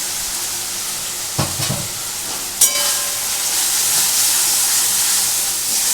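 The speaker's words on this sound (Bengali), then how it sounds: "এই মশলাটা একটু কষতে হবে।" Masala with frozen green peas fries in a wok for mutton keema, giving a steady close sizzle with a couple of brief stirring clatters and a sharp scrape near the middle.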